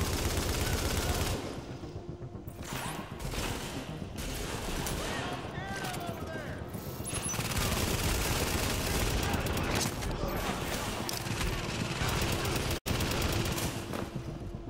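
Dense bursts of rapid automatic gunfire rattle continuously and loudly in Tom Clancy's The Division, during the Grand Central Terminal mission, layered with voices talking over the chaotic shooting.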